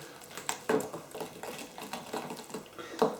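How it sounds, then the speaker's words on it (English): Brandy butter is beaten in a bowl, giving a rhythmic run of soft clicking and scraping strokes, evenly paced and close, with no talking. "Giving that a good mix."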